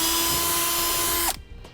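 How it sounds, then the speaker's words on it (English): Power drill with a 5/16 bit boring through a panel on a 2017 Jeep Wrangler, a steady high whine for over a second that stops abruptly, followed by a brief clunk, close and alone. "take our panel and a 5/16 drill bit and drill through the location where we want"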